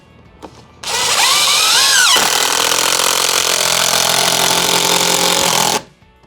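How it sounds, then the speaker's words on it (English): Power driver whirring loudly as it drives a screw into a wooden shelf on a makerspace workbench, a steady close-up buzz lasting about five seconds with a pitch rise and dip at the start before holding level. "So we're just gonna plunge a screw right here."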